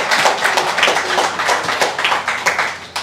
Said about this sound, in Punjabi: ਤਾੜੀਆਂ ਸੁਖਪ੍ਰੀਤ ਸਿੰਘ ਜੀ ਦੇ ਲਈ।